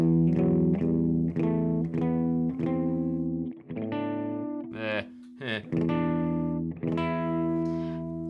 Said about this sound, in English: an E natural minor scale would sound like this